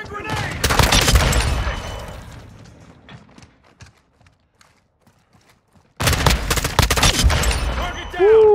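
Burst fire from an M16 rifle in the Modern Warfare 2 video game: loud, dense volleys of close gunshots fill the first few seconds, fade to sparse quieter cracks, then another loud barrage returns near the end.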